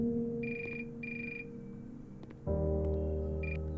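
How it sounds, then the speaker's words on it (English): In the video game The Uncertain, a telephone rings in short repeated electronic bursts: two rings, a pause, then a third, over a low steady ambient hum that swells partway through. "oh, we've got a phone call here."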